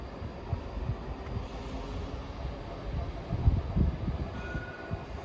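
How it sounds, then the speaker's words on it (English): A ScotRail passenger train departs Haymarket station in Edinburgh, heard as a quiet, steady low rumble of wheels and engine with a few soft thumps and a faint squeal near the end. "Departing out now is the 1518 ScotRail service from Helensburgh Central to Edinburgh Waverley."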